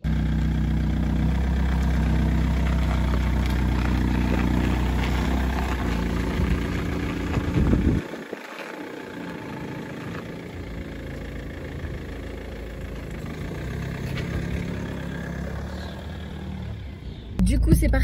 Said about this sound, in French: un bruit pas super agréable non plus parce que c'est un diesel